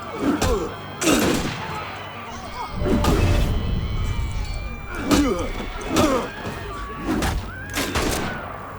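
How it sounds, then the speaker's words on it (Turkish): Gunfire in Assassin's Creed Unity, a series of loud, sharp shots about a second apart with echoing tails, mixed with game noise and someone talking. "Ben doldurana kadar silah herif beni vurdu."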